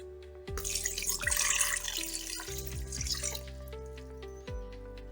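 Three-quarters of a cup of water pours steadily into a stand mixer bowl with yeast for banh mi baguette dough, several seconds of continuous pour with faint clinks and knocks of the bowl, no voices.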